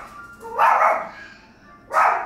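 A pet dog indoors gives two sharp, loud barks close by, the first longer and the second following after a short pause, with no talking.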